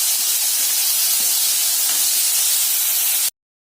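Tomatoes and onions sizzle in a pan for chickpea curry, a loud, close, continuous hiss that stops abruptly near the end.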